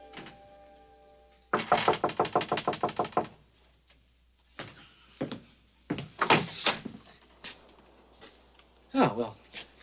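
Knocking on a door: a fast series of about a dozen firm knocks, then scattered single thumps and short knock bursts, close and clear, with voices and room sounds between them.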